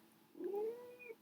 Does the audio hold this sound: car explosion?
no